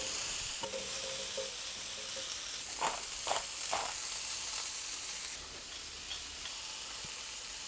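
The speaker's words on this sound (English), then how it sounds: "I'm cooking the tomatoes until the skin gets brown, wrinkly, starts to split" Whole tomatoes cooking in a hot pan until their skins brown and split, giving a steady soft sizzle with a few brief stirring scrapes partway through, no talking.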